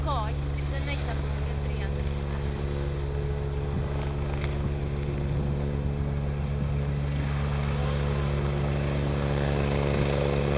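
A rescue helicopter that has just landed on a ski slope runs its engine and rotor with a steady, loud drone throughout, while a voice talks over it.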